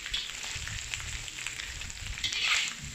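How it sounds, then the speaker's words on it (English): Salted egg yolks fry in a pan with a steady, close crackling sizzle that swells briefly near the end, with no voices. "That's why you want to fry it for a while."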